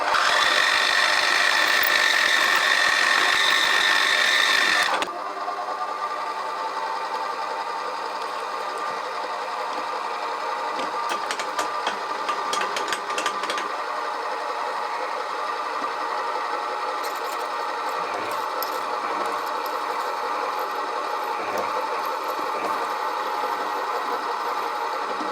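Machining a steam valve for a Stuart 10V steam engine model, drilling and reaming a hole: a loud steady workshop machine drone for the first five seconds, then a quieter continuous mechanical hum with faint intermittent ticks.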